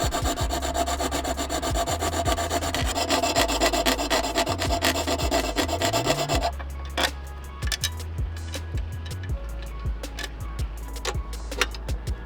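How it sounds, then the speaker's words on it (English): A hand file rasping on the thin aluminum cap of a security bolt from a Honda CRF300L: close, repeated back-and-forth scraping strokes in a steady rhythm, heavier at first and then lighter and more scattered. "so filing was needed."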